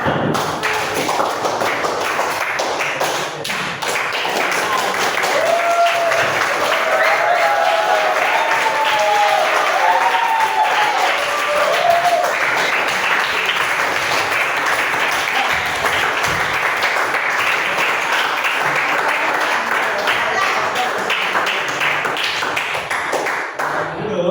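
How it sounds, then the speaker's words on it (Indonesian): Children in a classroom clap their hands together for a long stretch, the claps dense and steady with some taps and thumps, while young voices rise briefly over the clapping. "Tepuk tangan lagi nak untuk setiap."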